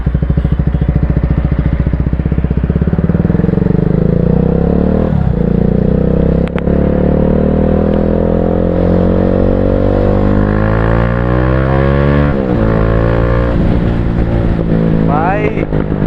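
A Yamaha R15 v3 motorcycle with an aftermarket exhaust drones loud and close while riding, its engine note rising and falling through gear changes, with a voice talking over it at times.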